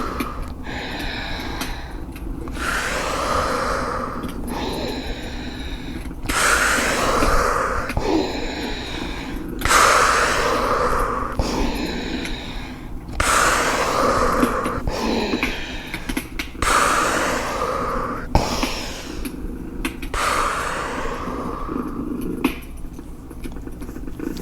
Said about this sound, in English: where you breathe through the nose and out through the mouth